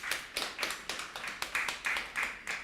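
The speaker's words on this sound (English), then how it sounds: "I would like to ask for the round of applause for our beautiful panelists." Applause for the panel at an Expo 2020 Dubai tourism session: quiet, steady hand clapping in an even rhythm of about four claps per second, with no voices.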